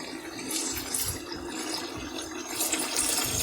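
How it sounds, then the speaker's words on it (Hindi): Water poured from a glass into a pot of mutton korma simmering with yogurt and spices, a steady close splashing and trickling pour lasting a few seconds, with no voices. "अब हम इसमें पानी ऐड कर देंगे।"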